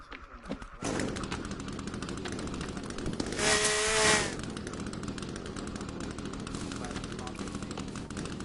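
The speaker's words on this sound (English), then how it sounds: "I stun-locked a deer with a chainsaw." Chainsaw hitting a deer in the survival game The Forest: a steady, loud buzzing drone runs throughout, swelling into a brighter rasping burst near the middle, with dense gunfire-like rattling texture.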